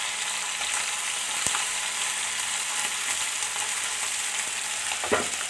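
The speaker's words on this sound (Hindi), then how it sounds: "अलग करने से थोड़ा जल्दी फ्राई होगा दोस्तों।" Chela fish pieces, spread apart in a pan, frying with a steady, dense sizzle and crackle that runs unbroken throughout, with a few small pops and scrapes near the end.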